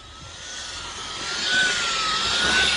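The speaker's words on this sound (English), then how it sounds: "activate the secondary air pump" Secondary air injection pump on a VW Golf mk4 running during an output test with the engine off, a steady whirring, airy drone that slowly builds in loudness, fairly close and heard alone.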